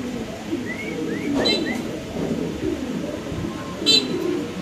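Spanish pigeons coo in short soft rising notes against a low background murmur, with a brief sharper chirp near the end.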